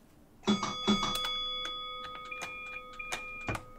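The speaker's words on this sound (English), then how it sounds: "If you listen out now, we'll have the ding ding of the bell" Two bright dings ring out in quick succession from the cab bell of a Class 455 electric train in Train Simulator 2021, followed by a sustained tone and faint clicks from the cab.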